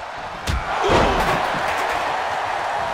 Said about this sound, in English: Boom, what impact! Nice drop kick.